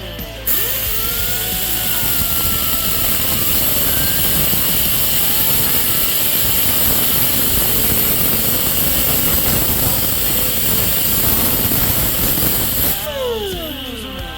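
A diamond wheel grinds through metal during a John Deere 80 cart restoration, giving a loud, continuous, close whining cut that runs steadily for about twelve seconds before winding down.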